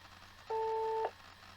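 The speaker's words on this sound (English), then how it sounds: "You can leave a message after the tone." Voicemail beep after a phone greeting: one steady electronic tone lasting about half a second, clear and alone over faint line hiss.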